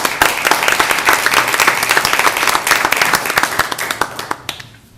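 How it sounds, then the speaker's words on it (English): Council meeting audience applauds veterans, a dense burst of many hands clapping that fades out after a few seconds, with no voices over it. "Let's give them a clap, please."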